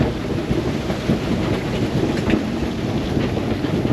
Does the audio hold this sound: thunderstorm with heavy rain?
yes